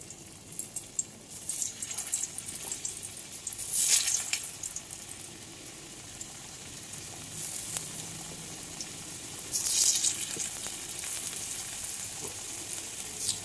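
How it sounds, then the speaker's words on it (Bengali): Potatoes fry one by one in hot oil left from frying fish, a steady sizzle swelling into two louder bursts of spitting as pieces hit the oil, with no voices. "এখন ওই তেলে আলুগুলো ভেজে নেব। এক এক করে আলুগুলো ছেড়ে দিচ্ছি।"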